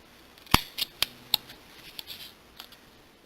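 Sharp scissors snipping open a sewn buttonhole in fabric, several crisp close clicks and cuts in an uneven rhythm, the first loudest, then fainter snips trailing off.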